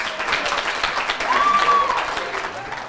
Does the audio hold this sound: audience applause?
yes